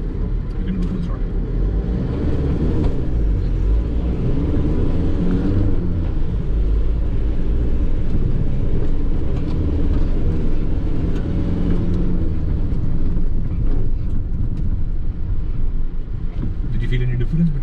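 A Tata Yodha 2.0 pickup truck accelerates at full throttle on an offroad test track, its engine giving a continuous low rumble with wind noise while people talk over it.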